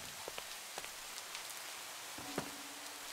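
Steady rain falls in the Minecraft video game, a soft, even patter of drops continuing throughout at low volume with no talking.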